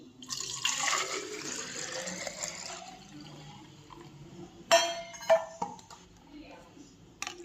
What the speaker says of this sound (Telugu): ఈ బాటిల్లో మనం వాటర్ ఫిల్ చేసుకొని